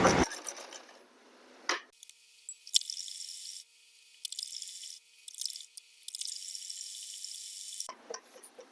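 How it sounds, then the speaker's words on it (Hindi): A sewing machine stitches the side fitting seam of a suit, running in quick close bursts separated by short pauses, with no talk over it. "इसी तरह से हम दूसरी साइड भी फिटिंग की सिलाई लगा लेंगे।"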